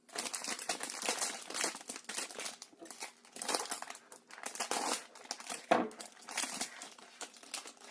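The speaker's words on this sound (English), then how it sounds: "there is a little plastic bag." A small plastic bag crinkles and rustles in quick irregular bursts while a Masters of the Universe Skeletor vinyl figure is unboxed, close and fairly quiet with brief pauses between handlings.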